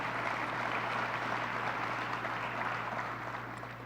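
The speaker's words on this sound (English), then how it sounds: "Let's give him a round of applause." Audience applause at a political event on Long Island with Governor Cuomo, steady dense clapping from a crowd throughout, fairly loud and even, fading slightly toward the end with a low hum underneath.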